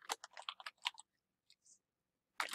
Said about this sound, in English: So for this, I'm just going to type in